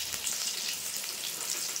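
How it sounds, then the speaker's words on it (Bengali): Potatoes frying in hot oil with salt and turmeric, a steady close sizzle with a dense crackling hiss that holds constant throughout, no voices present. "দিয়ে আলুগুলো সুন্দর করে ভেজে নেবো লাল লাল করে।"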